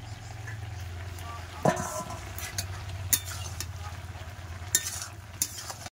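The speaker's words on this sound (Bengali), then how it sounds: "এই যে ফুলকপি আলুর তরকারিটা কষাই হচ্ছে" A cauliflower and potato curry sautés in a pan with a soft sizzle over a low steady hum, with several sharp utensil clanks against the pan and a person talking.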